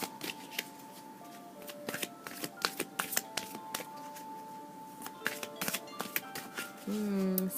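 Rapid riffling and snapping of a deck of cards being shuffled repeatedly, close and crisp, with a soft hum of background tones throughout.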